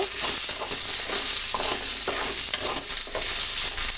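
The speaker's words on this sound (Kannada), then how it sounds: "ಈ ಮೂಲಂಗಿನ ಒಂದು ನಿಮಿಷ ಹಾಗೆ ಫ್ರೈ ಮಾಡೋಣ" Radish pieces fry in a pan while being stirred, a loud, continuous hiss with repeated scraping strokes of a spoon against the pan, and no one speaks.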